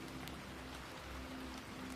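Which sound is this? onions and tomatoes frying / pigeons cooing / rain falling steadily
rain falling steadily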